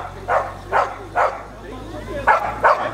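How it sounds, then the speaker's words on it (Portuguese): A dog barks five times in a steady rhythm, close and loud, with a short pause before the last two barks, over a low background hum. "Cachorro latindo aqui."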